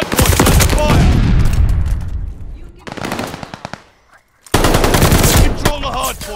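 Loud automatic gunfire rattles at a hard point in the video game Call of Duty: Vanguard, several dense bursts of rapid shots with a brief near-silent gap between them.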